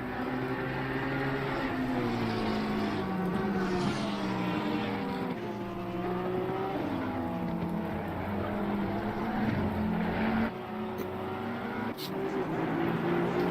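A McLaren race car laps the wet Zolder circuit in a sim racing game, its engine droning loudly and rising and falling in pitch through gear changes, with commentators talking over it.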